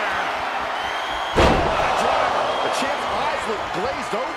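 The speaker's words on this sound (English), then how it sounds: "Long way up in the electric chair." A wrestler lands hard on the ring mat after an electric chair drop during a televised SmackDown tag team championship match: one loud, booming slam standing out from steady crowd noise, with commentators talking throughout.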